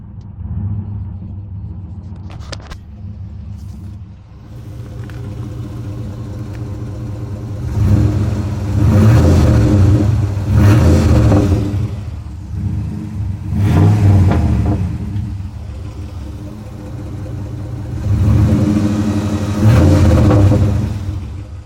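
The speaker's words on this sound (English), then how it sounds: "Absolutely zero exhaust on a 2003 Dodge Ram." A 2003 Dodge Ram pickup with no muffler or exhaust rumbles at idle, then roars loudly in three long revving bursts, raw and throaty.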